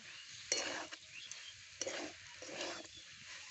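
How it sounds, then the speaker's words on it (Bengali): A spoon stirring a fried mixture of beet, carrot and potato with roasted ground spices and chopped coriander in a pan, quiet scraping strokes in three short bursts at close range, no voices. "এবারে ভালো করে মিশিয়ে নেব"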